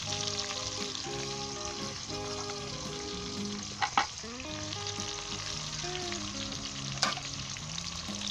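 Garlic and ginger-garlic paste frying with onions in hot oil for a chicken curry, a continuous close sizzle with a few brief stirring clatters partway through.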